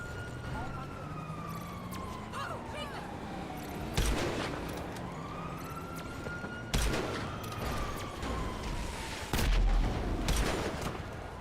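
Gunfire in GTA Online during a police shootout, a few sharp bursts around the four-, seven- and nine-second marks over a wailing police siren and game noise, with someone talking throughout.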